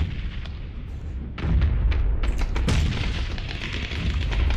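Gunfire in the video game PUBG, several sharp cracks and booming shots, some far and some nearer, rising over a rumbling background.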